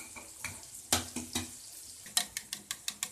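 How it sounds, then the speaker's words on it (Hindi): Food frying in a pan is stirred gently, giving a series of sharp spoon clacks and scrapes over a faint sizzle, spaced irregularly and fairly close. "तो इसको आप हल्का हल्का हिलाते जाएं। तो कम से कम आपने 5-7 मिनट के लिए फ्राई करना है।"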